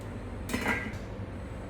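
A metal lid set onto a cooking pot of milk, water and saffron on a home stove, making one soft clink and a brief clatter midway through a quiet kitchen background.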